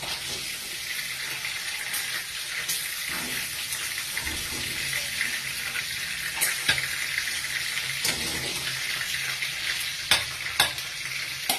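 Corn kernels frying in hot oil, a continuous bright sizzle with occasional sharp pops and crackles, close and fairly loud, heard alone without talk.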